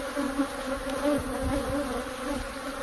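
Agitated honey bees swarming around a hive, a dense continuous buzzing drone, close and steady, with some wings whirring near the microphone.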